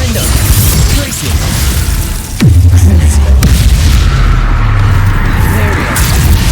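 Spell blasts and impacts from the video game Hogwarts Legacy, a dense run of booming bursts and crashes; a heavy low thump lands midway, then rumbling continues loud over busy game sound.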